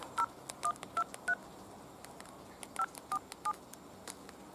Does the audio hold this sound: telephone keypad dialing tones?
yes